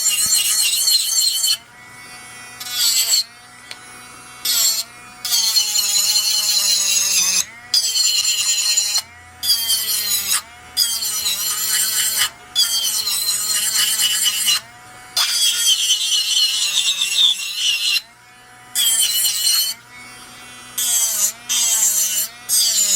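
A portable electric nail drill files an artificial nail tip in repeated bursts. Its high, buzzing whine grinds for a few seconds at a time, then cuts out briefly before starting again, loud and close throughout.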